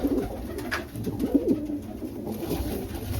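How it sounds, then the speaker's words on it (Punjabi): Soft, low pigeon coos repeat in short throaty bursts, fairly close, over a steady murmur of background noise. "ਹਜ਼ਾਰ ਵਾਲਾ ਕਬੂਤਰ ਹੈ"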